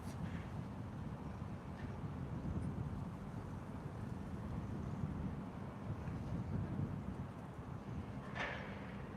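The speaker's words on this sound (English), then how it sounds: "It's quite windy here as well today," Wind buffets an outdoor microphone on a breezy day, a steady low rumbling roar that runs the whole time without letup.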